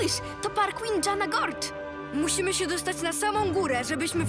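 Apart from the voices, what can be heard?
No everyday noises stand out.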